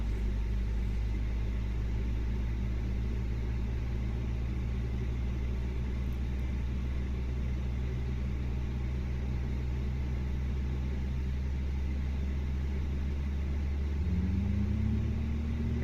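Number 2 engine of an Airbus A320 spins up during startup in Microsoft Flight Simulator, a steady cockpit rumble and hum with a rising tone emerging near the end, no talk.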